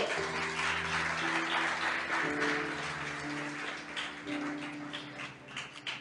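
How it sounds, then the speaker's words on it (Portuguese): A church congregation applauding during a sermon, a sustained patter of clapping over a steady tonal hum, likely organ or keyboard, that persists beneath it. "Você pode aplaudir o Senhor?"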